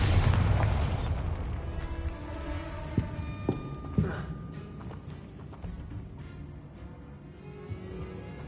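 Bombarda spell explosion in the video game Hogwarts Legacy, a loud booming blast at the start fading into a long rumbling decay, with a few sharp pops and thuds afterward.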